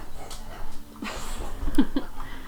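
A dog whimpers and gives a couple of short yips indoors, close and moderately loud, with breathing and soft rustling between the sounds.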